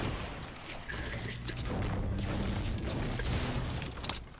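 Video game firefight with enemy players shooting: a dense, continuous barrage of rapid gunfire crackles under low rumbling booms, steady and fairly loud throughout with no clear speech.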